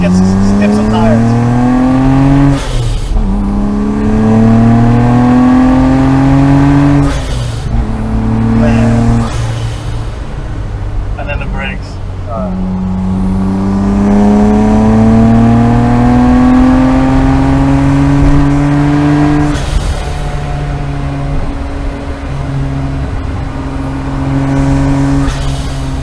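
A Nissan Skyline GT-R R34 V-Spec Nür in Millennium Jade accelerates hard through the gears, its engine rising loud and close with sharp breaks at each shift and tires skipping, with people talking over it.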